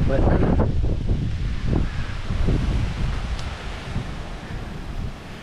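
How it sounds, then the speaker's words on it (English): Hurricane Helene winds gust across a microphone on the northwest Cape Coral waterfront, with rough buffeting and low rumble that ease slightly over time, while a voice briefly speaks. "like the winds are picking up a little bit"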